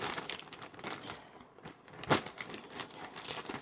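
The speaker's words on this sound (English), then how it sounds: "cut this bag open" A knife cuts open a plastic bag of peat moss indoors, giving faint crinkling and rustling of plastic with one sharper tearing crackle near the middle.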